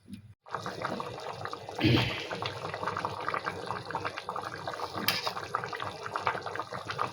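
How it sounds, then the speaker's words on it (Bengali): A tilapia and kohlrabi curry simmers in a pot, bubbling continuously at a modest level with a brief louder surge early on and fine popping throughout. "ফুটতে থাকুক একটু ঝোলটা কমবে তারপরে নামাবো"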